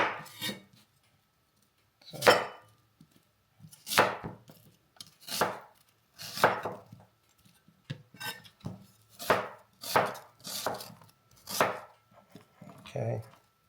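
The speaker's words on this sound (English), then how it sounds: "This time the onion we're gonna cut it a little bit small." Knife chopping an onion into small pieces for Filipino chicken adobo, a series of sharp, separate board knocks at an uneven pace with short quiet gaps between strokes.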